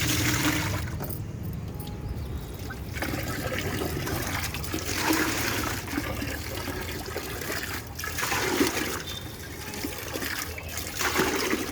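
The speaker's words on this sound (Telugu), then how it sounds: "అయితే నల్లకి పెట్టి ఇట్లా నీళ్ళన్నీ కొన్ని తీసుకొని" Water running from a tap while preparing banana liquid fertilizer, a steady splashing, trickling flow that continues throughout, fairly close with small surges in strength.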